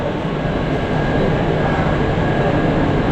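A commuter train rumbles loudly and steadily at a packed suburban railway platform in Vasai, a close, continuous heavy roar of rolling carriages with no break.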